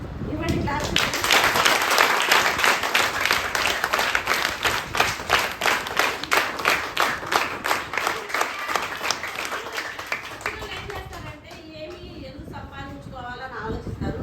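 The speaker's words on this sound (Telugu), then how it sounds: "గివ్ హర్ గ్రేట్ క్లాప్స్ అనమాట. ఇవ్వండి క్లాప్స్." Sustained audience applause with many hands clapping loudly at a political gathering in Guntur, steady for over ten seconds, then thinning out toward the end.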